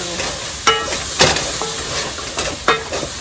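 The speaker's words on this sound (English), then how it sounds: "let this come to soften my onions and cook my garlic with the onions" Onions and garlic frying in a pan, a steady close sizzle with a few sharp stirring scrapes and clatters of a utensil against the pan.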